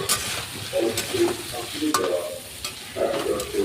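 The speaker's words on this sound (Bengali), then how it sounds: "কষিয়ে নেওয়ার পর অল্প চিংড়ি মাছগুলো দিয়ে দিলাম, আবার একটু ভালো করে কষিয়ে নেব।" Shrimp stir-frying in a pan during cooking, with steady close sizzling broken by repeated scraping stirs and clinks of a utensil, no voices.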